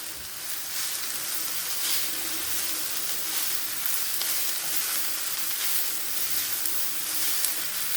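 Amaranth seeds fry in a pan, giving a continuous close crackling sizzle with a fine hiss at moderate volume. No voices are heard.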